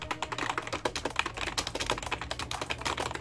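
Fast, steady clatter of keys being typed on an MKAX Gaming RGB membrane keyboard with a mechanical-like feel, close up and continuous with dense, even keystrokes.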